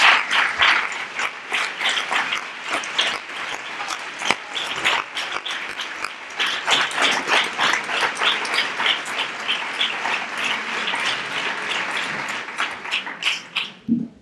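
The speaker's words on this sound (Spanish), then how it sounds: "yo quiero darle otro fuerte aplauso a este pregón tan emotivo" Audience applause after an emotional Three Kings proclamation at a civic ceremony in Nerva: lively clapping with distinct sharp claps standing out from the crowd, sustained and fairly loud across the whole stretch.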